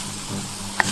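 Green peppers sizzle in a pan with onions and garlic, giving a soft, steady frying hiss with a faint click near the end.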